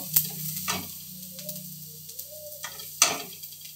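Onions frying in a pan on a gas stove, a soft sizzle under a few distinct clinks and scrapes of stirring spaced through the clip.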